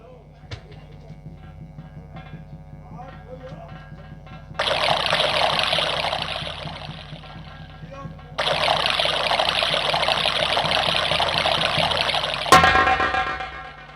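Water is poured out for someone to drink in a Hindi folk drama, with two bursts of splashing, trickling pour over background music and a sharp clatter near the end.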